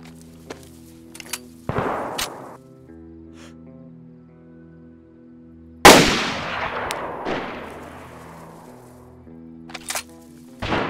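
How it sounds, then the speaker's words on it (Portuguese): Gunfire in the survival video game DayZ: several loud shots with long echoing tails, one early and a heavier burst midway, spread across a quiet stretch with faint clicks between and no talk. "Só tiro correndo, mano."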